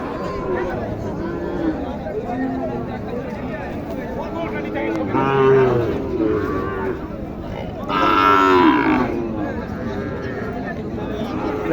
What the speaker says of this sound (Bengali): আপনার এটা কি গরু দেখি তো গির মনে হয় নাকি এটা নেপালি গির